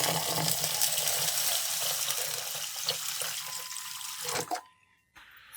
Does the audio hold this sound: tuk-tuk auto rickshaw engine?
no